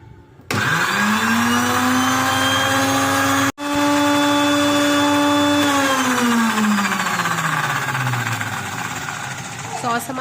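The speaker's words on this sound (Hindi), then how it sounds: "और बस अब हम इसको वेल ब्लेंड कर लेंगे।" A kitchen blender whirs through a sauce of chili and soy sauce for a chicken corn soup, a loud, steady motor whine that holds for several seconds and then slowly winds down.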